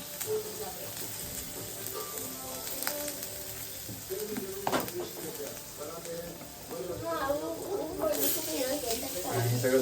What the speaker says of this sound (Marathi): आमटीची फोडणी पडते आता